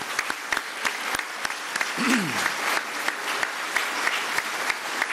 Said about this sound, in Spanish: Le pedimos un aplauso.